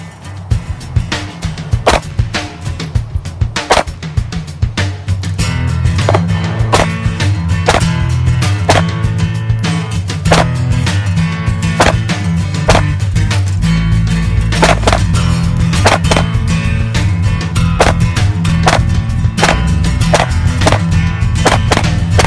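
Shots fired from a Glock loaded with a 33-round magazine at a 3-gun range, a long rapid string of loud, sharp cracks at irregular pace, close by, with a background rumble and no talk.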